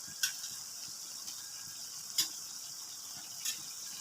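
Prawns and okra are stirred in a cooking pot, with a few distinct scraping clacks of the spoon over a steady soft sizzle.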